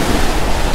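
Rough ocean surf washing onto a warm Sanibel beach, a steady loud roar of breaking waves mixed with wind buffeting the microphone, continuous with no voices.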